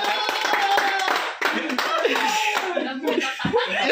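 A group of people claps steadily and densely throughout, with talking and laughter mixed into the noise.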